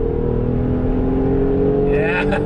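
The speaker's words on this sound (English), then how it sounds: "So you want to floor it real quick?" A 2023 Nissan Pathfinder Rock Creek or Kia Telluride X-Line SUV accelerating at full throttle, heard from inside as a steady, loud engine drone that holds throughout, with a brief higher whine near the end.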